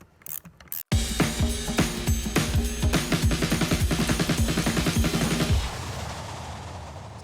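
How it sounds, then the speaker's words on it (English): A ratchet wrench clicks rapidly and steadily for about five seconds as a 17 mm Öhlins coilover nut is tightened on a Porsche 996 Carrera, loud and close, preceded by a few knocks and a sharp bang. "we're going to go ahead and tighten this down before we torque it to spec."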